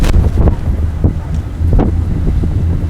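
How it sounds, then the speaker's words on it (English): A stiff gust of wind sweeping over whitecapped open water during a women's collegiate rowing race, roaring and buffeting the microphone with a constant low rumble for a few seconds. "Very, very stiff gust."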